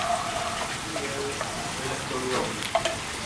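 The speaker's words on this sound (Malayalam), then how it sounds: "ചെമ്മീൻ പാനിലിട്ടിട്ട് അതെ ഒന്ന് ഫ്രൈ ചെയ്തെടുക്കും" Prawns fry in a pan with curry leaves, making a continuous bright sizzle and crackle with a few light clinks of stirring, close up.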